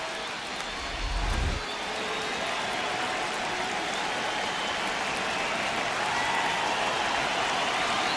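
Steady roar of a home crowd at a ballpark in the baseball video game MLB The Show 26, a dense continuous cheer that holds loud throughout, with a brief low thump near the start.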